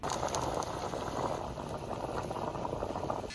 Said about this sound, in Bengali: জলে ভালো করে জাল উঠে গেছে